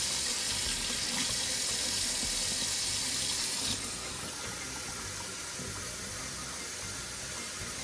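Hot water runs from a tap onto chicken sitting in vinegar, a steady close hiss of flowing water that drops slightly in level partway through, with no talking.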